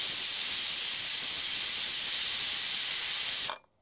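Steam hisses loudly and steadily from a pressure cooker releasing pressure after two whistles while coconut milk masala rice cooks, a continuous near roar that cuts off abruptly near the end.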